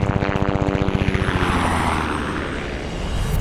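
A helicopter flies nearby during a race, its rotor producing a fast, steady thumping pulse that fades into a broad, whooshing engine roar as it passes. No one speaks.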